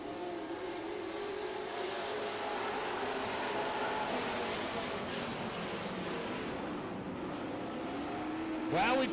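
Super stock race cars roar around a dirt track in a heat race, a continuous distant engine drone with cars passing and a sharp rising whine near the end, under a commentator's voice.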